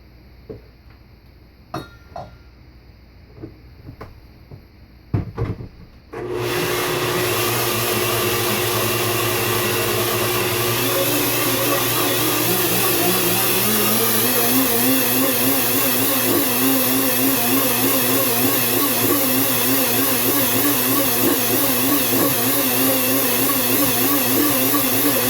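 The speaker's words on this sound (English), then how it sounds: "I'm just going to scrape down the sides and blend it for just another quick second to make sure it's completely" A countertop blender whirring through a raw florentine mixture, starting after a few quiet clicks and light handling sounds, then running loud and steady at close range for about twenty seconds with a wavering motor pitch.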